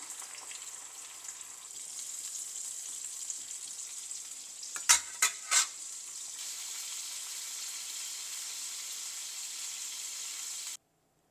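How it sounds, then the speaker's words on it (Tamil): Brinjal (eggplant) pieces frying in a pan, giving a steady high hissing sizzle with a few sharp clattering knocks midway, close and continuous until it cuts off abruptly. "இந்த கத்திரிக்காயை ஃப்ரை பண்ணுறேன்"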